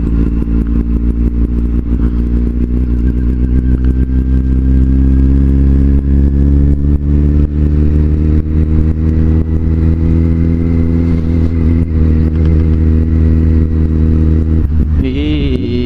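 Loud, close engine drone of a Kawasaki Z750 motorcycle riding steadily along with another motorcycle, rumbling continuously with slight rises in pitch and no voices.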